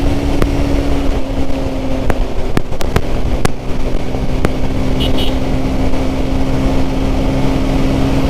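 A Bajaj Pulsar Neon 150 motorcycle revs hard at high speed on an open road, the engine drone steady and loud under heavy wind rush, with a few sharp clicks.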